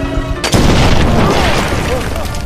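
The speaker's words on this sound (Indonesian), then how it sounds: "Akibat ledakan ranjau barusan" A sudden loud landmine blast in a film erupts after a brief tone, followed by a long rumbling roar of debris that slowly fades.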